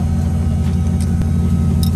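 A car engine drones loudly and steadily at close range during a drifting session, a constant low rumble with faint higher clicks and no talking.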